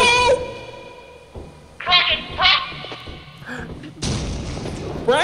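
Turrets explode in the video game Lethal Company, with booming, gunfire-like bursts at irregular intervals, a loud sustained blast near the end and game sounds in between.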